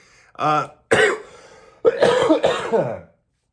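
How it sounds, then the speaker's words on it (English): A person coughs and clears their throat in several harsh, close bursts across a few seconds, with short pauses between them and no other sound. "You're gonna have to deal with the coughing."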